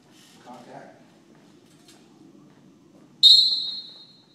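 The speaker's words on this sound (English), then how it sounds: "you're going to blow the whistle" A referee's whistle blown to start a Greco-Roman wrestling bout, one sharp shrill blast that decays over about a second, following a quiet stretch with a brief murmur of voices.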